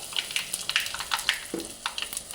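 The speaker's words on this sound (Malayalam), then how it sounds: "കടുക് പൊട്ടി അതിന് ഞാൻ അതിൽ കായ ഇടുന്നു" Mustard seeds and asafoetida frying in hot oil for mango pickle, with quick scattered pops and crackles over a soft sizzle, close by.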